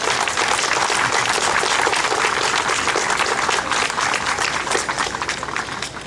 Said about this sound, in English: Please, a round of applause for all of them.